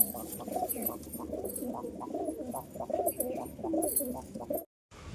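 Pigeons coo steadily in soft, repeated throaty rolls, close by and continuous, ending in a brief silence.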